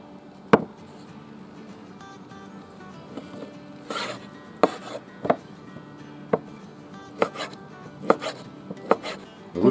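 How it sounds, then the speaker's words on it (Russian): A knife chopping smoked pork knuckle on a board while making bograch goulash, with scattered, uneven thuds and a few quick double strikes, separated by quieter scraping and handling. "И туда же нарезаем нашу копченую рульку."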